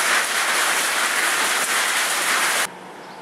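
Heavy rain pours down in a steady, dense hiss, loud and close, continuing unbroken before cutting off abruptly near the end.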